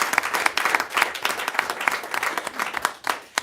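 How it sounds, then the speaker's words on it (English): An audience at a school board meeting claps for Hudson High School teachers. The clapping is sharp and fairly close, with distinct individual claps forming a lively, uneven rhythm throughout. "can we give a round of applause to all of our teachers?"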